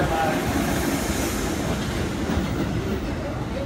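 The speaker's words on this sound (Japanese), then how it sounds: "3番線側、回送列車が到着いたします。" An out-of-service JR East 211 series 2000-subseries train rolls into the platform, a steady loud rumble with wheel clatter close by.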